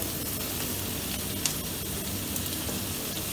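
Fried potatoes hit spiced ghee in a pan over a low gas flame, giving a steady, close, even sizzle for a fasting-day potato curry, with no talk over it.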